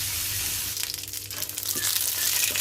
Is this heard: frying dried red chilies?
yes